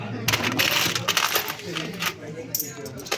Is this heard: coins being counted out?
yes